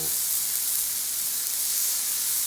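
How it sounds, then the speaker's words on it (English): Chuck roast sears in bacon grease on a Blackstone griddle over medium heat, giving a steady, close, even hiss and sizzle with no break and no talking. "We wanna get this nice and seared all the way around"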